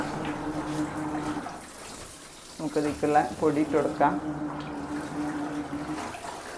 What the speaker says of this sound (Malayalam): അപ്പോൾ ഇതാ നമ്മൾ മെഷീൻ ഓണാക്കി വെക്കുകയാണ് കേട്ടോ